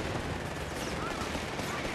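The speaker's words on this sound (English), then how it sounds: "Those troopers are firing at us!" Troopers firing rifles in the Company of Heroes 3 video game, a continuous dense crackle of gunfire filling the scene at a steady level with no pauses.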